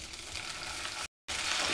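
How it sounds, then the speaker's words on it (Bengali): Chopped onion and green chillies sizzle steadily in a hot pan, a close, even crackle of frying that drops out for a brief moment before resuming just as loudly. "পেঁয়াজটাকে ভালোভাবে ভেজে নিব"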